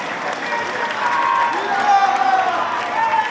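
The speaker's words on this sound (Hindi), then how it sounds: "एक बार जोरदार तालियों के साथ में स्वागत करें।" A crowd applauds to welcome a wrestler-turned-candidate at a political rally in Gurgaon, a dense, fairly loud, continuous clapping with a slight swell midway.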